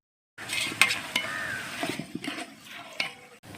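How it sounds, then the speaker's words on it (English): Onions and green chilies frying in a hot pot, heard as a close sizzle with several sharp stirring scrapes, ending abruptly after a few seconds. "the onions and green chilies are getting fried"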